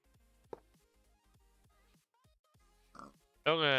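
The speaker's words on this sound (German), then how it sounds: "spawn ja mehr Schweine wie alles andere hier." Short game-like pig grunts and oinks from spawning pigs pop up repeatedly over quiet background music, ending with a louder squeal.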